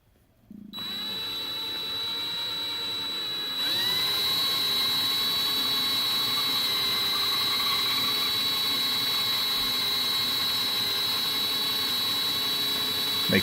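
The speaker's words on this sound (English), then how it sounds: "get some of this lapping compound on the head of the lapper here and" A powered lapper coated with lapping compound works a rifle barrel's crown, spinning up after a moment into a loud, steady whine that steps higher in pitch and holds evenly to the end.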